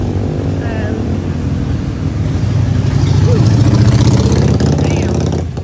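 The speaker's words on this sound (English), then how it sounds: "the streets here on Legian Street is quite noisy, and there's always a lot of traffic" Busy traffic on Legian Street in Bali, with motorcycles and cars idling and revving up close, forms a loud, continuous engine rumble that swells midway as bikes accelerate past.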